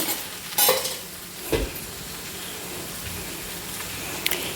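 Red amaranth thoran with salt is stirred in a pan, giving a steady faint sizzle with a couple of brief scraping strokes of the spoon, close by.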